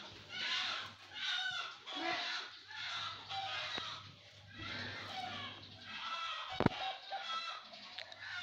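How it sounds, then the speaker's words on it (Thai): Chickens cluck repeatedly in a farmyard setting, a busy overlapping run of fowl calls at middling distance, with a low steady hum beneath and a sharp knock partway through. "ไก่ร้องนะ"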